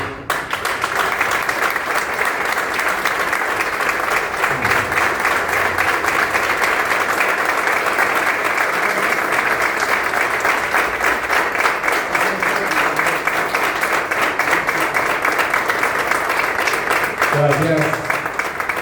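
Sustained applause from an audience at a formal municipal session, steady dense clapping holding level for the whole stretch with a brief murmur of voices near the end.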